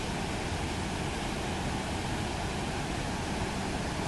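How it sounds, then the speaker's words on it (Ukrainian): A constant, loud roar of rushing water with no letup, broad and dense, from the Probiy waterfall in Yaremche. "Реве вода."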